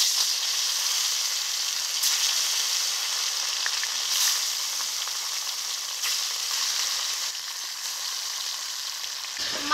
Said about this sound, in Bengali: এই তেলে লবণ হলুদ মাখানো মাছগুলোকে ভেজে নেব